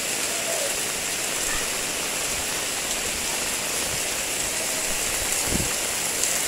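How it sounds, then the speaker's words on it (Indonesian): Heavy rain pours down in Samarinda in October 2020. It makes a dense, steady wash of noise with no breaks, loud and close all around. "Deras hujannya."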